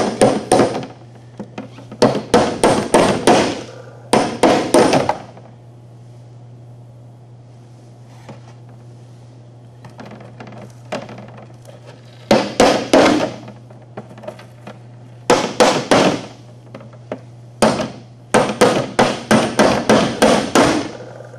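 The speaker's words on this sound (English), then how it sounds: "let's try to chisel some of this dry ice into smaller chunks" Hammer blows drive a chisel into a block of dry ice to break it into smaller chunks, coming as close, sharp, rapid bursts of strikes separated by quiet pauses under a low steady hum.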